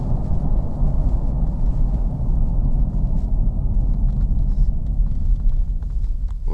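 A car rolls along with its ignition switched off while moving, producing a continuous heavy low rumble of road and tyre noise that stays steady and loud with no engine sound.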